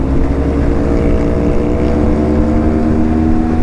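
Steady engine drone of a Ducati Scrambler Night Shift Edition motorcycle ridden up through Lamoille Canyon, Nevada, a continuous loud hum with wind rush over the microphone and no talking.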